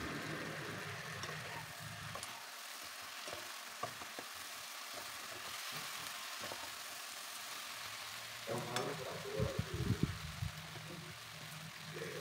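Teriyaki chicken stir-fried in a pan after teriyaki sauce is added, with a soft continuous sizzle and occasional stirring scrapes, growing busier with clattering near the end, close but fairly quiet, no talking.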